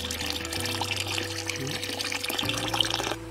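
Cow urine is poured into a jeevamrit mix of water, splashing and gurgling in a steady liquid stream, close and fairly loud, with a low hum beneath and no talking.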